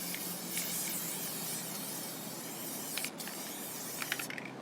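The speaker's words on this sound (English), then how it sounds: "At first I do a light spray just so I can move my fabric around." Adhesive sprays from a can in a light, even hiss onto fabric for a fabric school cone, a soft continuous spray close by with a few faint clicks and taps toward the end.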